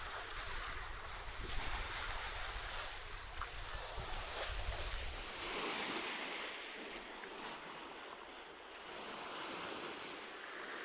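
Atlantic waves wash and surge around an Oyster sailing yacht under way at sea, with steady wind buffeting the microphone and a low rushing roar throughout.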